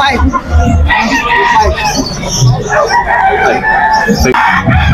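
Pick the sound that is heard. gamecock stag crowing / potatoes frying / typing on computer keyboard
gamecock stag crowing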